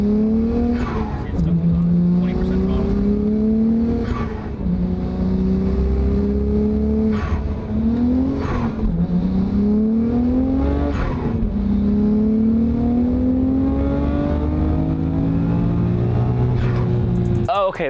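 A tuned turbocharged car engine revs hard and close, climbing repeatedly through rising pitches with brief drops between shifts, loud and sustained over about eighteen seconds.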